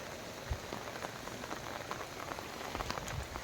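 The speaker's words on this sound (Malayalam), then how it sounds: "ഇപ്പോഴും നല്ല മഴയാണ് അത്യാവശ്യം തെറ്റില്ലാത്ത നല്ല മഴയുണ്ട്" Heavy monsoon rain falls steadily, a dense hiss with scattered drops and patters striking a nearby surface, continuous throughout.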